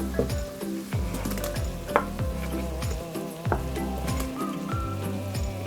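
Diced potatoes tumble into a hot pot and sizzle gently, with a steady frying hiss, a few clinks of a spoon against the pot, and soft stirring scrapes, close up with no voices.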